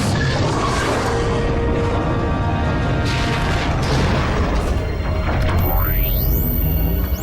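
An animated vehicle lifts off in a cartoon launch effect, with a dense rumbling blast and hiss throughout and a rising whistling sweep that climbs over the roar near the end.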